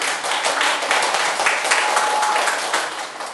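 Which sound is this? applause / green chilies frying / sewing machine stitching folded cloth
applause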